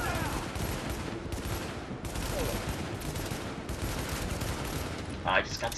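Dense gunfire rattles through a firefight in The Division, set in Grand Central Station, with sniper shots mixed into a steady, loud barrage across the clip and a sharper burst near the end.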